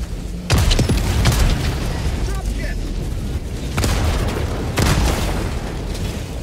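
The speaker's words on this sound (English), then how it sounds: "it was a grenade." Grenade and other explosions in the Helldivers 2 video game: repeated loud, booming blasts with rumbling tails over continuous battle noise.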